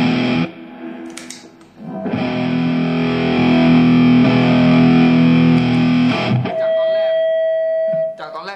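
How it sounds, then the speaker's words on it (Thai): Electric guitar through a Shark Bangkok pedal on its boosted solo channel with a thick, bassy tone, a loud sustained distorted chord ringing for several seconds, then a short quieter note and a brief final strum. "แล้วเน้นโทนเสียง A มาเป็นทุ้มๆนะจะเป็นบาสเสียงฝั่งหนึ่งเป็นโซโล่นั้นหนาฝั่งหนึ่งเป็นริทึมเสียงแตกๆนะครับ"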